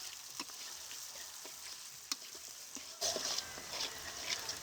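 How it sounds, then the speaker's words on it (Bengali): Chopped onions fry in oil with whole spices, dry chilli and bay leaf, a faint soft sizzle with scattered light pops that grows fuller and louder partway through. "পেঁয়াজটাকে এখন ভেজে নেব।"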